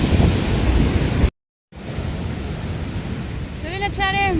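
Niagara Falls roars as a broad, constant rush of water seen from the New York side, loud and steady, with a brief dropout partway through and a short whistling or voice-like sound near the end.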